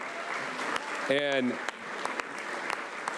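Applause at a county volunteer recognition ceremony in San Diego, honoring the volunteer coordinators: a steady wash of clapping across the whole stretch, with a voice speaking briefly over it near the middle.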